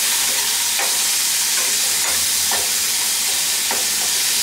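Tomatoes fry on a flat tava for desi chilli paneer tikka, giving a steady, loud broadband sizzle with a few sharp clicks of stirring against the pan, no voices present.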